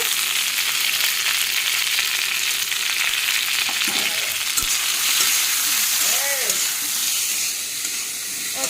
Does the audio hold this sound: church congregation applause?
no